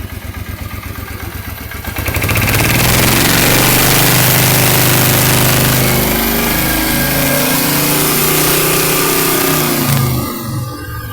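A Suzuki Marauder VZ motorcycle engine with a connecting rod knock, idling roughly, then revving up loudly and holding high revs for several seconds before dropping back to a lumpy idle.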